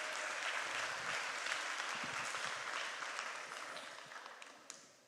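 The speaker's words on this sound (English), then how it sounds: "A big hand clap for yourselves." A crowd applauds steadily, a dense wash of clapping that slowly fades toward the end, with no one speaking.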